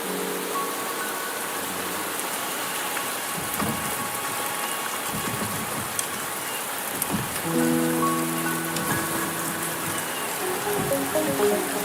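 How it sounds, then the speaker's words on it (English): Steady rain patters in the Wuthering Waves video game, a dense, even hiss of drops on surfaces lasting throughout, with faint tonal game music drifting underneath and no speech. "The rain is subsiding, and the sky will soon clear."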